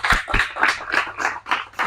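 At the close of a live cooking demo of Caribbean knife skills and salt cod salad, hands clap in a steady loud rhythm of about seven claps, with a faint low hum underneath.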